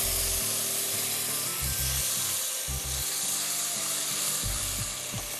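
Loud, continuous sizzling and frying of chicken hareesa in a pan after tomato paste and soup are added, a dense crackling hiss close up with no talking.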